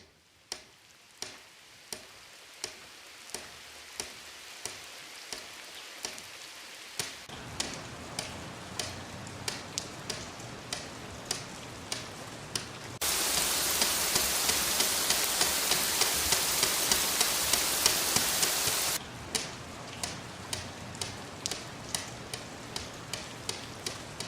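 Fingertips tap out an imitation of rain in a children's music activity, a steady ticking beat over a rushing hiss that thickens midway into a dense, loud patter before thinning back to evenly spaced taps.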